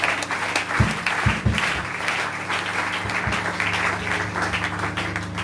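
A church congregation applauding in praise of the Lord: sustained, dense clapping from many hands filling the room, steady and loud throughout with a few heavier thumps.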